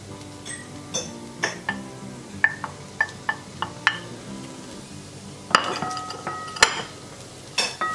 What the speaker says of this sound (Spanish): Y vamos removiendo.